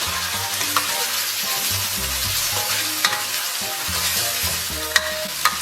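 Chili paste and bean paste fry in a little oil over low heat, a steady sizzle broken by scraping stirs of a spatula against the wok, with no voices.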